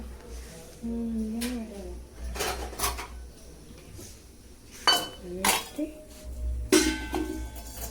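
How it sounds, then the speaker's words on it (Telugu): A bowl is set underneath a cooking vessel in a home kitchen, producing several scattered clinks and knocks of metal dishware, close by, with a brief voice murmuring between them. "దాని కింద గిన్నె పెట్టేస్తా."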